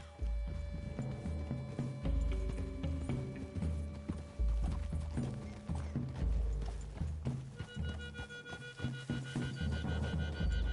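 Steady clip-clop of horse hooves in Red Dead Redemption 2, over continuous game music and ambience, with a faint whinny and some mechanical clicking, no pauses throughout.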